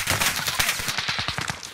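Rapid bursts of automatic gunfire in a first-person shooter video game, dense overlapping shots with rapid, rattling repeats, loud and close throughout.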